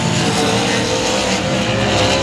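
Race cars roar around the track at Cotton Bowl Speedway, a dense, loud, continuous engine drone with steady tonal whine sustained throughout, close and unbroken by talk.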